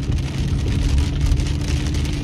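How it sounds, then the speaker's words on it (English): Rain falls steadily in a broad, constant hiss heard from inside or around a car, with a low rumble underneath and no talking. "So now it's raining."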